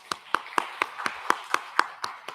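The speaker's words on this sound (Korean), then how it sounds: "박수하겠습니다." Church congregation clapping to welcome new members during a Sunday morning service, a steady run of about ten even claps at a moderate distance with no talk over them.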